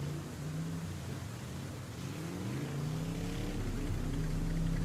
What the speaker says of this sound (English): we hear the sound of engines revving